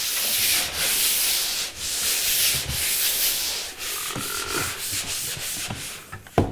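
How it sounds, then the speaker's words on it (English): A disc sander sanding a painted ceiling between coats gives a continuous abrasive drone with rhythmic swishes as it sweeps back and forth, close and fairly loud, with no talking. "I'm gonna just use this disc sander here."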